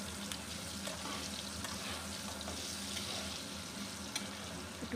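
Potatoes, salted, fry in a pan for a prawn dish, giving a steady, close sizzle with faint stirring clicks throughout and no voices.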